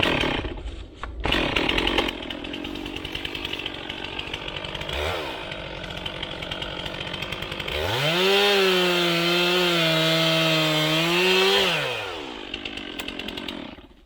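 Chainsaw cutting through the hinge wood of a tree being felled, the engine revving steadily then surging to a loud, sustained high-pitched whine mid-cut before easing off.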